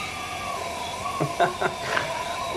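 Compressed air at around 30 to 40 psi hisses steadily through an unsealed valve on a BMW N54 engine, with a faint whistling tone and a few short bursts over the top.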